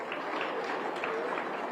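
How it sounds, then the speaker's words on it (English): Steady applause from a crowd at an ANC lekgotla in Kempton Park, a continuous wash of clapping with some individual claps standing out. "Give him a good round of applause."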